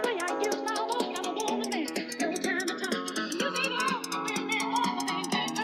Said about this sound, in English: Now here, light flange.